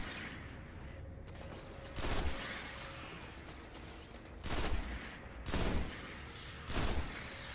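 Gunfire from small enemies in the Destiny shooter game, several short bursts of shots cracking out in a broken rhythm over a steady background hum, fairly close and loud.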